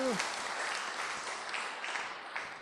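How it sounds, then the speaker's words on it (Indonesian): A seated audience at a talk claps together in a soft, continuous patter, fairly faint and even, after a brief voice at the start. "Bagus, tepuk tangan, bagus."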